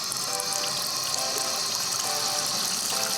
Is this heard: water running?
yes